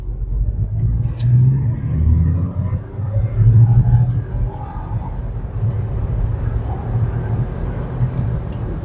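A 2025 Geely Okavango Elite MPV crossover accelerates in sport mode, heard from inside the cabin as a loud, continuous low engine rumble that swells and eases with the throttle.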